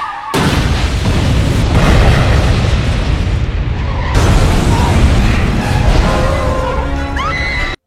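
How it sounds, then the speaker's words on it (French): Loud booming explosions in a film scene crash and rumble in two heavy waves with debris and chaotic noise, ending in sharp screeching tones before cutting off. "tout ça va créer pas mal d'explosions"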